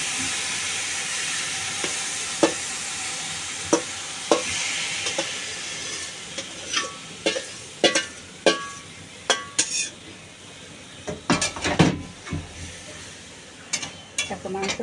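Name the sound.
meat frying and being stirred in a wok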